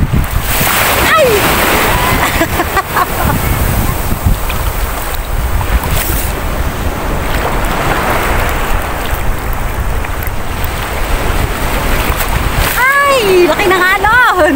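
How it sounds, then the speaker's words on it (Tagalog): Big ocean waves crashing and splashing at Tung Fuk beach on Lantau Island, loud and close with roaring surf and wind, while people shout and talk excitedly over the water. "Laki ng alon!"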